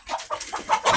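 Several black hens cluck in quick, uneven bursts close by on a chicken farm, a short run of soft clucks with no other sounds.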